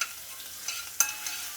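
Crushed garlic cloves crackle in hot oil with mustard seeds, cumin and a dried red chilli, a faint, steady sizzle dotted with small pops and a light stir.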